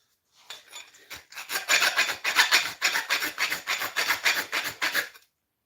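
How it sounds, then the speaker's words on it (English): A very rough hand file rasps across stainless steel in about a dozen quick, even back-and-forth strokes, close and loud, with no talking. "Very rough file I have here."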